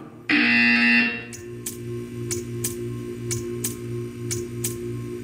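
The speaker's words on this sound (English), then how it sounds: "You will hear a buzzer." A harsh electronic buzzer in the video game Portal 2 blares for about a second, then a steady hum continues with a regular series of sharp ticking clicks.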